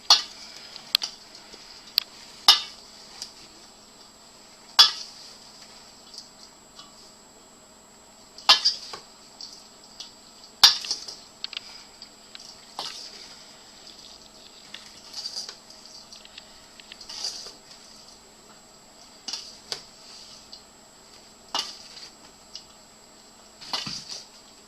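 Corn relish being mixed with salt in a bowl for lacto-fermentation, faint soft scrapes and sharp clicking taps of a utensil against the container, sparse and irregular over a quiet background, no talking.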